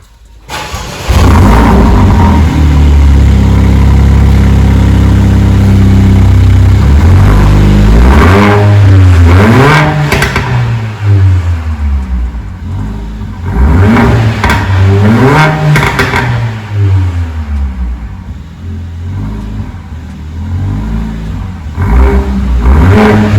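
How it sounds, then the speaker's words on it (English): A Mercedes-Benz CLA 45 AMG exhaust idles with a deep steady rumble, then is revved in several loud, close blips that rise and fall, each settling back to idle, with no talking over it. "So now let's take a listen to this amazing exhaust system."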